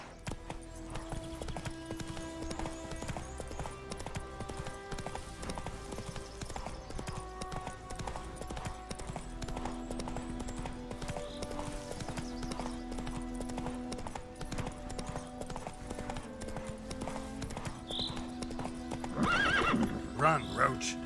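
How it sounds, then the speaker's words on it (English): Hoofbeats of the horse Roach in The Witcher 3 game, a steady clip-clop of galloping that runs throughout alongside game music and ambience, with a brief whinny near the end. "Run, Roach."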